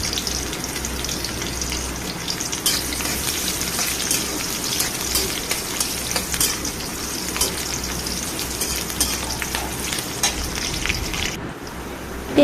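Chopped onions fry in a pan, giving a loud, dense, continuous crackling sizzle that runs unbroken and then cuts off abruptly near the end, with no talking.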